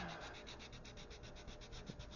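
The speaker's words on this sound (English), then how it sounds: "go back in with a sanding stick" Steady, rhythmic rubbing strokes of a sanding stick worked across a plastic model of the USS Yorktown CV-5 aircraft carrier at 1/200 scale, close and fairly quiet, with no talking.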